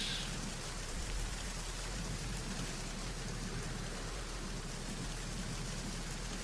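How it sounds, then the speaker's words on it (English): Steady rainfall in the Metal Gear Solid 2 video game, a dense, continuous hiss of rain on surfaces with a faint low rumble beneath it, even in level throughout and with no voices. "I can hear the rain, but no words"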